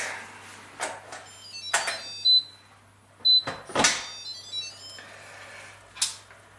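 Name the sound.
Instant Pot pressure cooker beeping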